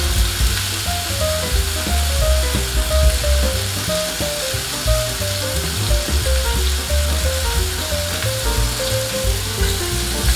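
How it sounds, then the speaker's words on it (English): Fish sears in a hot frying pan with a loud, continuous sizzle and crackle close by, steady throughout with no talking. "It takes about a minute to actually sear it well."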